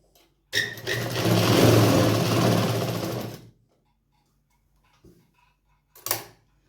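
Sewing machine running straight stitches on salwar fabric, one steady loud whirring run of about three seconds, then quiet with a couple of brief mechanical clicks near the end.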